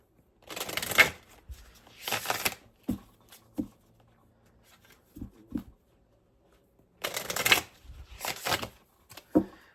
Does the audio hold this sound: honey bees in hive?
no